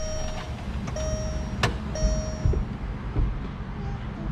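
On a Volkswagen convertible, a power window motor run by a switch gives short, thin whines in a few separate bursts, faint over a steady low background.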